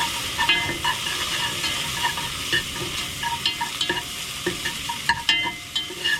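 Garlic paste frying in a pan gives a steady close sizzle, broken by repeated scraping and clicking taps as it is stirred.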